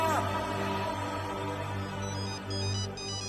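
A phone ringtone plays continuously, a steady electronic melody with sustained tones, moderately loud and close, with no talking over it.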